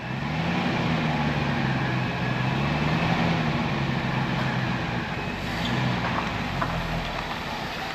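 A 1974 Ford Ranchero with a 351 Cleveland engine runs close by, a low rumbling idle that swells gently as the throttle is pressed, steady with no talking.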